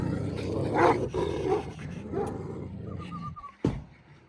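Dogs in a mountain village bark and growl in a rough, loud cluster near at hand, with one sharp bark standing out near the end.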